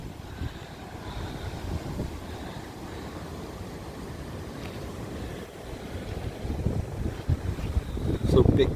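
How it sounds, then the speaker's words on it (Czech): Strong wind buffets the microphone on the coast of Sal island, Cape Verde, a constant roaring rush that swells louder toward the end, with waves faintly audible underneath. "Fouká to jak svině."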